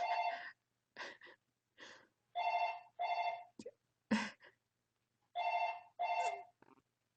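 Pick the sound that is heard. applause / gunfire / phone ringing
phone ringing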